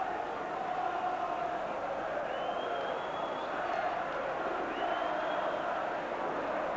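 A big football crowd of about 44,745 at a Manchester United v Liverpool league match, a steady roaring murmur filling the ground throughout, with a couple of faint whistles rising above it.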